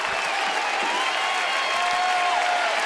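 Baseball crowd at a Phillies–Nationals game in Washington cheering loudly and steadily, calling for a player to come out of the dugout after his home run; a dense, continuous roar with some applause throughout.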